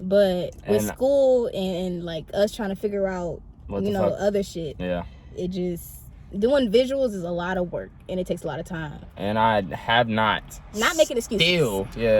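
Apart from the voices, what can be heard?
No everyday noise stands out behind the speech.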